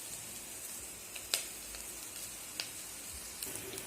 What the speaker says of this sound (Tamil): இப்போ இதுவும் தேங்காயும் நல்லா வதங்கட்டும் கொஞ்ச நேரம்.